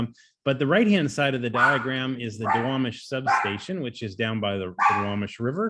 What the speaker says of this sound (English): Well, that's my dog barking in the background.